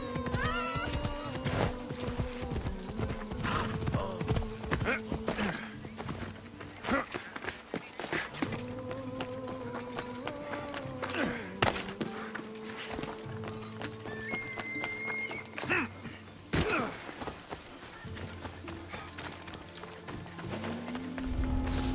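A horse gallops in the video game Assassin's Creed Odyssey, a steady run of hoof clip-clops beneath game music and ambient effects, moderately quiet and continuing through the whole stretch.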